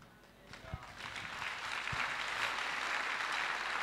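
Congregation at a French-language deliverance and healing prayer service breaking into applause, building from a faint start into a sustained, dense clapping wash that holds to the end.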